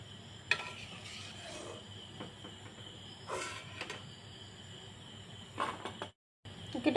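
Khurma dough pieces frying in hot oil give a soft, steady sizzle, faint and close, broken by a few light clinks of utensils.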